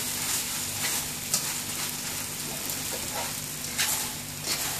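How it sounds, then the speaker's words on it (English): Fried mee goreng noodles tossed with sauce in a hot pan, a steady loud sizzle with scraping stirs and occasional sharp spatters, no voices over it. "Mix the entire noodles real well"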